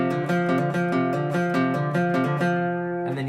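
A guitar plays a song riff, a short melodic phrase of clear, sustained notes moving up and down over a few seconds, heard up close with no talking.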